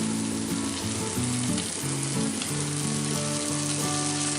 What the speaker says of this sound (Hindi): सबसे पहले हम इसमें रेड चिली सॉस डालेंगे